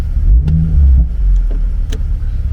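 A BMW Z4 M40i fitted with an Akrapovic exhaust starts up and settles into a deep, loud, rumbling idle with a few sharp clicks and blips over it, close to the car.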